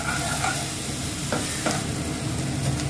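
Grated onion fries in oil for a fish curry, a dense continuous sizzle with a few brief scraping stirs against the pan, close and fairly loud, with nobody talking.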